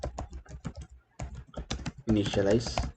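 Rapid keystrokes on a computer keyboard while Java code is typed, a run of close, crisp clicks with a voice-like hum rising over the latter half.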